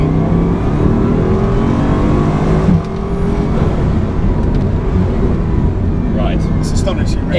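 Bugatti Chiron hypercar with two-stage turbocharging accelerating hard along a straight, a loud, steady engine roar rising in pitch from inside the cabin, with voices briefly over it near the end.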